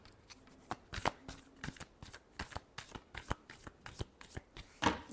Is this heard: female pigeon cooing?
no